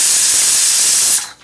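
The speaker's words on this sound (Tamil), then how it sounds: "இப்போ பிரியாணிக்கு 7 விசில் வந்துருச்சு" A pressure cooker cooking mutton dum biryani lets out a loud, steady high hiss of escaping steam for over a second before it cuts off abruptly, heard up close with no talk.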